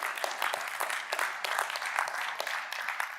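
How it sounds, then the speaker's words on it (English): Audience applause at a live speech, a steady patter of many hands clapping with a few sharper claps standing out, moderately loud and without talk. "round of applause for that"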